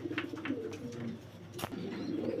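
Pigeons cooing at a large pigeon farm in Faridpur, soft throaty coos repeating close by over a low background of other birds, with a brief flutter or knock partway through.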